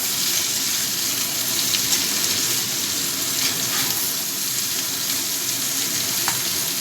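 Bitter gourd, potato and pumpkin fry together in a pan with a dense, even sizzle that holds steady and close throughout, a few faint clicks rising above it.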